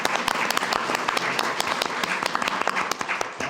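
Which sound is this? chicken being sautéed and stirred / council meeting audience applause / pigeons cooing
council meeting audience applause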